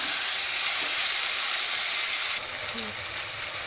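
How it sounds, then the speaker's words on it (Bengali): Spices and ingredients fry in a pan with a soft, steady sizzle and hiss, dropping slightly in level partway through, with no talking. "এটাও একটু এর সঙ্গে ভাজাভাজি করে নেব।"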